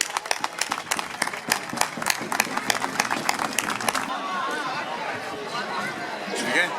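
A crowd at the 2016 Balaguer giants festival claps for a champion women's team, with dense applause for about four seconds before it fades into crowd chatter and voices.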